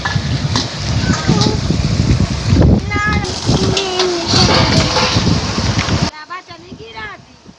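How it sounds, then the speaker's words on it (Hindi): Strong wind buffets the microphone outdoors in a rural village, with loud, rough rumbling while people talk over it; the gusts cut out abruptly near the end. "बहुत ज़बरदस्त हवा चल रही है।"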